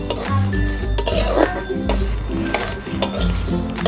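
Mustard seeds and spices dry-roasting in a pan (kadai) for Bengali olive pickle, with a steady run of clinks and scraping of a spoon or spatula against the metal, close and continuous.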